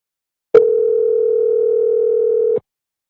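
A phone call goes unanswered with a single loud, steady ringing tone held for about two seconds, starting and stopping abruptly amid silence.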